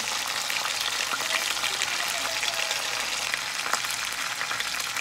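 Tilapia fish frying in a pan gives off a steady, dense sizzle and crackle that stays even and close throughout, with no voices.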